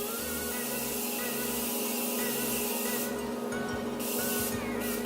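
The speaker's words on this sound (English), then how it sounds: "I'm going to set my face with the Morphe setting spray." Several quick hissing bursts of Morphe setting spray mist onto a face, sounding close over a steady background hum, with a longer burst near the end.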